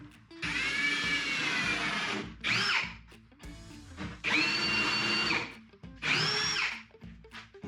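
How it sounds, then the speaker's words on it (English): A power drill bores holes in a basement while a model railroad table is built, giving three long whining bursts of the motor biting into wood, with short pauses and slowing pitch between runs. "So now that we have all the holes drilled out"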